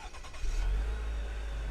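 The engine of a 2025 GMC Acadia Denali starts from a push button, heard from inside the vehicle. A short crank is followed by a steady low idle, at moderate loudness.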